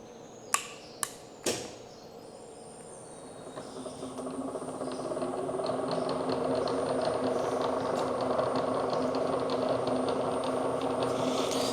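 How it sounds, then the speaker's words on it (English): A milling machine starts up and runs to drill out sheared rivets on a part from a 1954 Steyr T80 tractor, with a few sharp clicks, then a rising steady mechanical whir and rattle that stays loud and close. "So I'll turn on the milling machine now and we'll give it a go."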